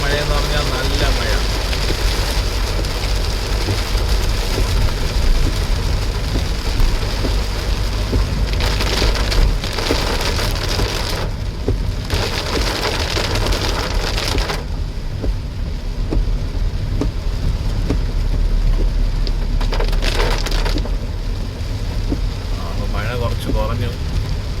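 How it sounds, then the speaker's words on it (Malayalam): Heavy rain drums steadily on a car driving through a forest area near Palode on the way to Trivandrum, a loud, dense wash of noise that barely lets up throughout. "ഭയങ്കര മഴയാണ്. നല്ല മഴയെന്ന് പറഞ്ഞാൽ നല്ല മഴ."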